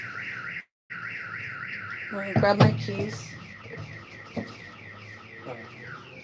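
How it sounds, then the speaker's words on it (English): A Chevy car alarm blares with a repeating warbling siren that cycles steadily, close and loud, while a person talks over it and something rattles briefly partway through. "That's the alarm on my car."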